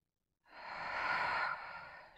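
A single deep breath, taken slowly during a relaxation exercise after a Pilates session, sounds as a soft close breathy exhale lasting under two seconds in an otherwise quiet room.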